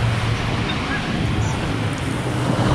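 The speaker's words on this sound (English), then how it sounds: "So we come down to the beach now on the east coast." Surf on a beach on the east coast of Gili Meno, Indonesia, a steady broadband wash of waves mixed with wind rumbling on the microphone, no voices.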